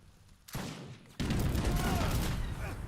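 Mondragon rifle volleys in Age of Empires 3 Wars of Liberty: after a quiet start, a short crackle of fire breaks out, then a dense, sustained burst of overlapping gunfire rolls on loudly to the end.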